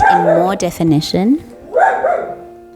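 An indoor pet dog barks and yips a few times in quick succession, close and loud, mixed in with a person talking.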